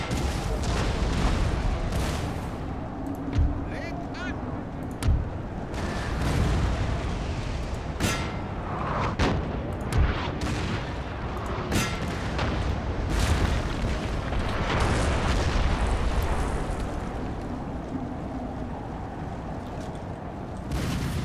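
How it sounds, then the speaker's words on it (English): Artillery thunders across a Napoleonic battlefield in Napoleon: Total War. Deep booms and cannon blasts roll and overlap, some near and sharp, others distant, over a constant rumbling din of battle with no talk. "This is definitely a war of artillery."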